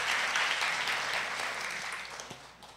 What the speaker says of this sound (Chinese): 我想借大家的掌声来谢谢每一组帮忙带主的主长